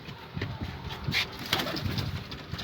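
Pigeons, including a female, coo nearby, soft repeated throaty calls with a few rustles and flutters in between.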